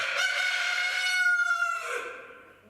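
A hen gives one loud, drawn-out crowing call close by, holding steady before tailing off, with nothing else heard.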